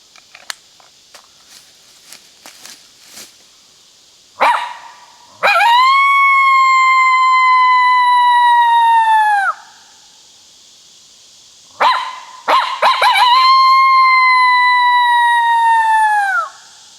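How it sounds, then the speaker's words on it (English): A red latex MFK competition howler coyote call blown in the woods gives two long, loud, drawn-out howls, each rising sharply and then sliding slowly down, separated by a pause, with faint clicks and rustles before the first. "The howler we used this morning, competition howler, it's the red latex."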